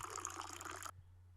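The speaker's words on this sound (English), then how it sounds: "Luka pours himself a drink" A drink poured into a glass, a steady close liquid splash and trickle for about a second that stops abruptly, leaving quiet room hum.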